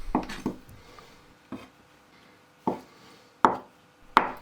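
A knife cuts through silken tofu onto a board with several sharp taps at irregular intervals, close and fairly clear against a quiet kitchen background.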